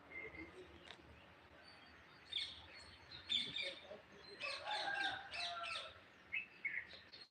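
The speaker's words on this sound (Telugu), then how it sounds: "కోకిల కిలకిలలు" Koels chirping and calling in bright bursts, some repeated notes, outdoors in trees in the morning at moderate distance with quiet background.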